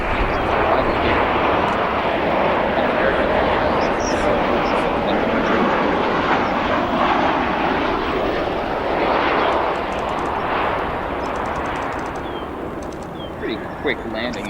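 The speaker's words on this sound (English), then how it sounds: "Pretty quick landing there. That flight coming in from Charlotte, North Carolina, a 21-year-old 737-800." A 21-year-old Boeing 737-800 arriving from Charlotte lands at O'Hare airport. Its engines roar loud and steady for the whole stretch, fading slightly near the end.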